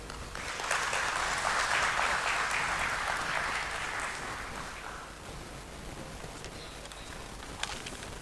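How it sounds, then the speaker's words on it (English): An audience at a bond listing ceremony at the stock exchange breaks into a round of applause, strongest early on, then thinning and fading over several seconds into faint distant clapping. "Round of applause, please."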